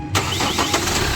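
A 2008 Chevrolet Captiva diesel engine, serviced with an oil change after smoking and hard starting, cranks and fires abruptly, then settles into a loud, close, steady rumbling idle.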